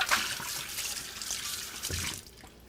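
Hot tap water runs and splashes into a soapy cooking pot as it is rinsed in a kitchen sink. The water gurgles and hisses steadily and close, with no one talking.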